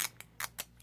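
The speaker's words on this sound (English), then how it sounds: "cut this tail off this one" Scissors snip the tail off a small resin keychain piece in four quick, crisp clicks close up, quiet and alone.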